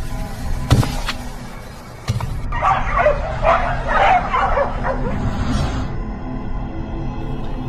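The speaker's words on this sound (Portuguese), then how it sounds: "Passos pesados e agito de cachorros." Several dogs bark and yip excitedly in a rapid, overlapping flurry, moderately loud, after a couple of sharp knocks at the start.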